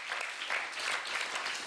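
Temple audience at a Sunday gathering gives a round of applause, brisk steady clapping that swells and holds throughout.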